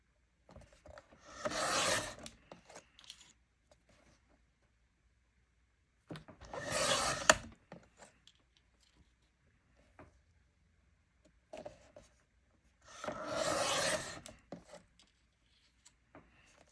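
Paper trimmer slicing paper for a vintage Christmas mini album, three separate broadband cutting strokes of about a second each at a steady interval, close and fairly quiet, with small handling clicks between them and no talk.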